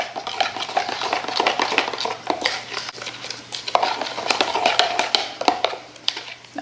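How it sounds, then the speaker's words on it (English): A utensil stirs green soap mixture in a container, making rapid clinking and scraping strokes in a busy, uneven rhythm, close and moderately loud, with a faint low hum underneath and no talking. "Now we're gonna stir up our green."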